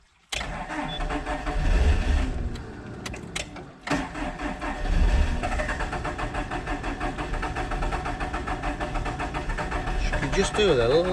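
A Komatsu digger's Cummins four-cylinder diesel engine cranks over with a pause, then turns again and catches into a rough, steady mechanical running, loud and close, with someone talking throughout.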